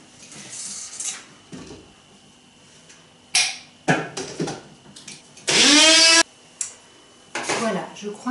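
A small blender whirs through a thick raw vegan hemp-seed and parsley spread, with one loud steady burst of motor noise after scattered kitchen clatter and brief pauses.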